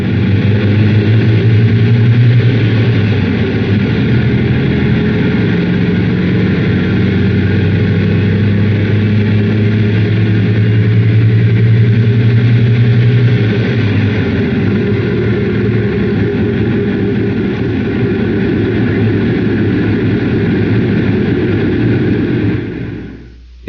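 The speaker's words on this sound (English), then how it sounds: "Give a listen to the sound of reduction boxes going bad." Worn reduction boxes on an air-cooled Volkswagen Beetle whine and rumble steadily while the car coasts in neutral with the engine silent, a continuous droning growl of gear and road noise lasting throughout before cutting off abruptly at the end.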